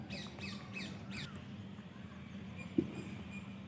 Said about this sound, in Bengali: পাখির আওয়াজটা শোনা যাচ্ছে।